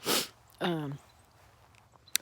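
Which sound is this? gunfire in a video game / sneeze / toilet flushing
sneeze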